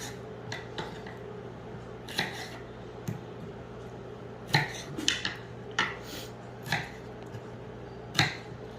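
Scattered light clacks and taps of a cutting board and knife being set down after slicing fried green tomatoes, sharp isolated knocks over a quiet kitchen background with no talk.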